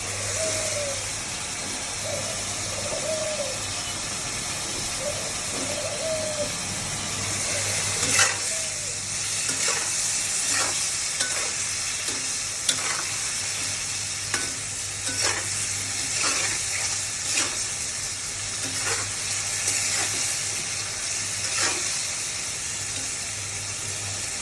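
Drumsticks and potatoes dropped into a pan and fried: a steady, loud sizzle runs throughout, with early bubbling pops and later a series of scraping stirs at a regular pace, close up, with no talking.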